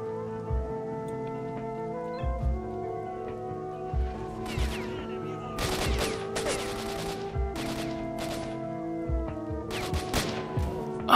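Enemy gunfire in the S.T.A.L.K.E.R. shooter game, a run of sharp shots and short bursts at irregular intervals over a steady droning game ambience, with no voice.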